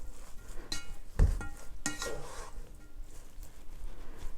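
A cooked pot of yellow turmeric rice with lemongrass and leaves is scooped and scraped with a utensil, giving a few soft clinks and scrapes against the pot, with one sharper knock near the middle.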